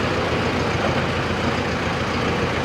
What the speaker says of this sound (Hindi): ट्रैक्टर मेरा आगे जाने लग गया।